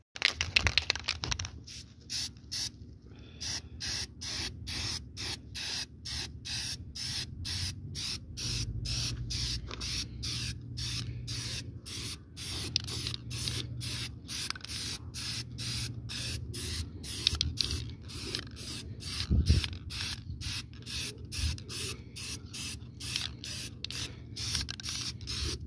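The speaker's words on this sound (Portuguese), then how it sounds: "Deixar ela secar agora e mandar um sprayzão aí para nós ver como é que vai ficar" A spray can sends out a long run of short, regular hissing bursts of paint onto a welded Dana 44 differential axle on a Jeep Willys. The hiss is close and steady, broken by brief pauses.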